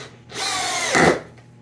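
A drill whirs briefly as a screw bites into plywood without a pilot hole, grinding harder near the end before stopping, close up.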